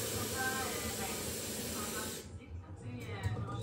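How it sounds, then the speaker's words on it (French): Hot tap water runs with dish soap in a home cleaning setting, a steady close hiss that stops abruptly partway through, followed by quiet room sounds and a few faint knocks. "Je vais mettre un peu d'eau chaude."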